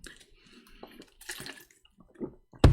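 Water poured or running briefly into a container indoors, soft trickling and splashing sounds at moderate level, ending with a louder close clunk.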